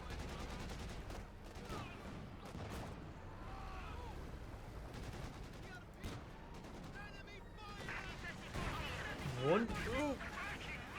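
Submachine gun and SVT rifle fire in a Company of Heroes 2 battle between Soviet and German forces, rapid crackling bursts and single shots amid explosions and battle noise, heard under a commentator's continuous talk.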